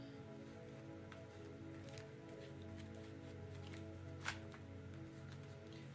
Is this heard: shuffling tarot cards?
yes